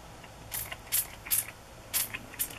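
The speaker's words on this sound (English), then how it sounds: "I don't want a whole lot of orange, but we'll just lightly mist it." A spray bottle lightly mists orange ink onto tracing paper in a splat box, five short hissing spritzes spaced about half a second apart, close and fairly crisp against a quiet room.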